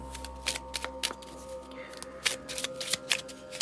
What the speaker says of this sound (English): we're going to shuffle these up a little bit